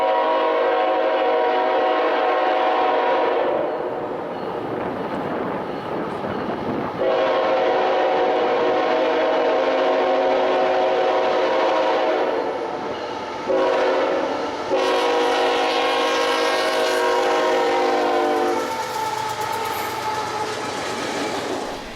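A CN freight train powered by a GEVO locomotive passes close and loud, its rumbling cars running steadily while the horn sounds in long blasts throughout.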